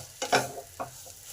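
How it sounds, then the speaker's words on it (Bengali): A spatula scrapes and stirs spiced potato filling with turmeric, cumin and roasted spice powder as it fries in a pan: a few sharp, close strokes over a faint sizzle, with no speech. "এবার সব কিছুকে ভালো করে আলুর সঙ্গে নেড়ে নেব।"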